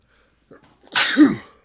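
One close, loud sneeze during a class syllabus lecture, a short intake of breath followed by a sharp explosive burst that fades quickly.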